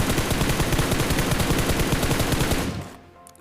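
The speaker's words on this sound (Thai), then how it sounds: "เหมือนจะมียิงลงมาด้วยนะ" Automatic gunfire in the PUBG Mobile battle royale game, a loud rapid burst of shots in steady rhythm that cuts off abruptly near the end, leaving a quiet tail.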